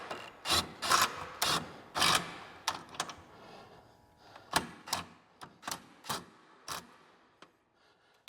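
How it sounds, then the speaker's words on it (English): A shock bolt being worked out on a Can-Am off-road vehicle during a spring upgrade, a series of close metallic ratcheting clicks and scrapes in irregular rhythm, moderately loud, no talking. "Let's see if we can thread this bolt out."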